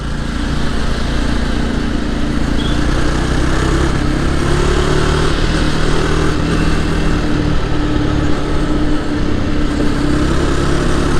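A Jawa 42 Bobber motorcycle engine drones steadily in fifth gear at high speed, a loud, constant mid-pitched roar with rushing wind and no change in revs.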